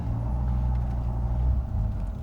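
A 1996 Dodge Viper GTS coupe cruising, its engine a steady low rumble heard from inside the cabin with no voices.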